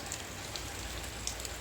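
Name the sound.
rain falling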